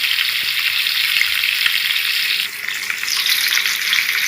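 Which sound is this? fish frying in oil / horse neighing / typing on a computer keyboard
fish frying in oil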